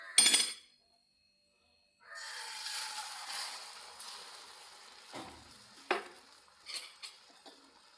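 Egg and bread omelette batter hits a hot, oiled pan after a brief clatter and a moment of silence, setting off a steady close sizzle with a few soft utensil knocks and taps near the end.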